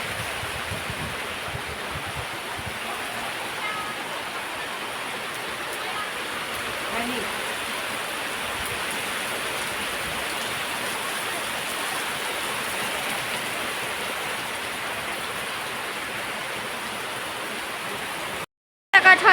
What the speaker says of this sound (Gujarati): વાવાઝોડા સાથેનો વરસાદ